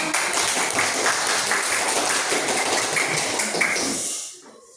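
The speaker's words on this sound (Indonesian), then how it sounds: "Oke, tepuk tangan untuk" A classroom audience applauds a student group after its presentation on making cassava lemet, a dense wash of claps that holds steady, then fades out near the end.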